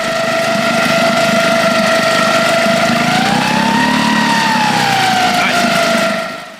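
A small new 6 horsepower outboard motor runs steadily and loudly nearby, with a strong droning whine that rises briefly in pitch before settling back.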